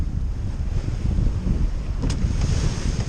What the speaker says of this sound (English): I'm amazed at the regularity of the wind and the waves offshore.